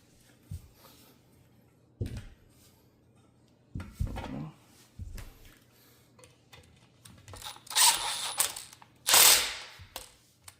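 Bolts are tightened while a Vatros barstool is assembled, with scattered metallic clicks and knocks from the tool and parts, then a louder ratcheting burst near the end, close and quiet with no talk.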